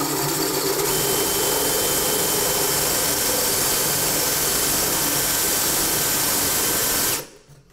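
A power drill bores a hole slightly larger than its bit, running loud and steady at close range for about seven seconds before cutting off abruptly.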